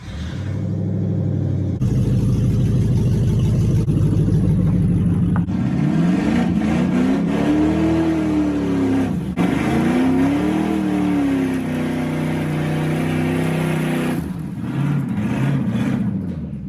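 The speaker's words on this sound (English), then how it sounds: "I think we're just gonna have to go do a couple burnouts" A truck does burnouts, its engine revving loud and close, swelling and dipping in long sustained roars with tire noise mixed in, and no voices.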